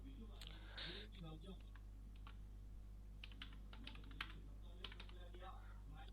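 Typing on a computer keyboard while writing a simple Kivy program, with quick bursts of light key clicks close to the mic over a steady electrical hum and occasional speech.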